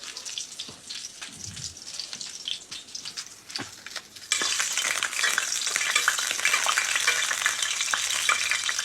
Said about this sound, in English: So you see that I've created a lot of violence with that basting.